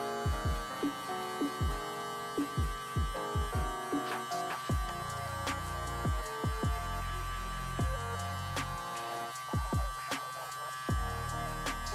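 Electric hair clippers with a number 1 guard buzz steadily while cutting a self-done fade, a constant mains-like hum with repeated sweeping strokes as the blade passes through hair, close and alone without talk.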